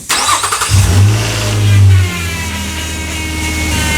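A 2009-14 Nissan Maxima engine with a newly replaced alternator cranks and catches, revs up briefly, then settles into a steady close idle, heard alone without talk.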